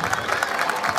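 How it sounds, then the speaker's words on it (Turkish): An audience at a summer Quran course closing ceremony claps for a young memorizer, a short dense burst of applause close and steady throughout. "Küçük hafız adayımıza büyük bir alkış."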